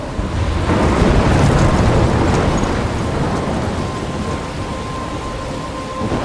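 Thunderstorm in the video game Life Is Strange: steady, heavy rain roars throughout with deep rolling thunder rumbling underneath, loud and close, no voices.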